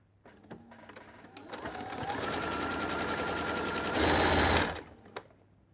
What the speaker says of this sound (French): C'est parti, je vais pouvoir faire la couture.